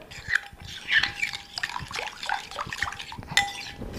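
A spoon scrapes and clinks around a bowl as bhringraj powder is mixed in for a homemade hair serum, making repeated close, light taps and swirls with no talking.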